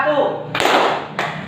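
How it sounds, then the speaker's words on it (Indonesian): A class of schoolchildren claps hands together in a classroom, with two short bursts of clapping following a teacher's voice, close and fairly loud. "Oke, tepuk tangan dulu."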